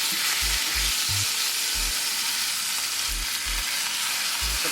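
Meat sizzling loudly in a pan just after being flipped, a dense close hiss with soft low thumps recurring through it, no talk.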